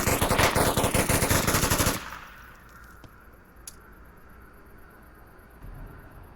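Rapid automatic gunfire in the VR shooter Onward, a loud sustained burst for about two seconds that then stops, followed by a quieter stretch with a single faint distant shot.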